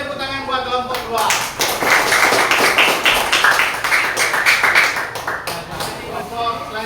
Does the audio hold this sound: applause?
yes